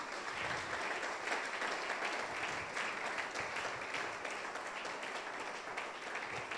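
A church congregation at a worship convention applauds in dense, sustained clapping that fills the room evenly from start to end, heard somewhat distant and steady, with no pauses.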